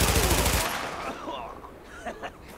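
Rapid automatic gunfire in the video game The Division, a loud burst of shots for about half a second, then fading echoes and a few faint later shots, with a voice in the background.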